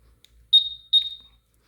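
A Honda Super Cub 125 motorcycle alarm gives two short, high-pitched electronic beeps in quick succession, clear and close, with near silence before and after.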